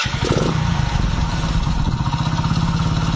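Hero Splendor Plus motorcycle engine with its air filter removed, revving loud and close in a steady rapid putter that rises briefly at the start and then holds a rough, fast idle.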